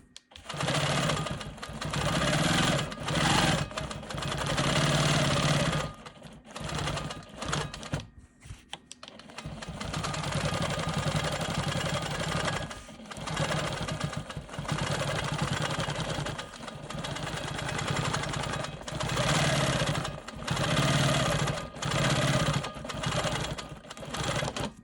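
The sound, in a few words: Quilt Maker Pro 20 quilting machine stitching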